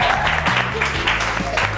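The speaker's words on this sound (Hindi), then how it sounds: "तालियां बजाएं" Audience clapping in a school hall during a televised talk show episode, a short burst of applause with scattered hand claps and some voices underneath.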